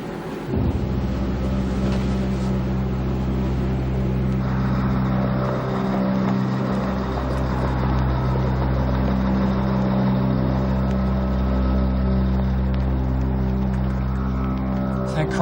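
A car engine idles steadily while parked, a continuous low rumble running throughout, close and fairly loud, with faint talk underneath.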